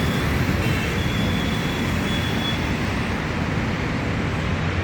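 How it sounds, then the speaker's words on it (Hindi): Heavy highway traffic on the road from Gurugram to Manesar, a dense continuous roar of many vehicles passing close by without pause, steady and loud throughout. "ये देखिए जी गाड़ियों की भीड़, एक भी मिनट के लिए सड़क बंद नहीं होती है, हमेशा ही चलती रहती है।"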